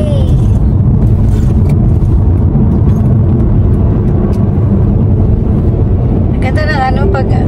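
Car cruising on an expressway, a loud constant road and wind roar heard from inside the cabin, with a brief higher whine near the end.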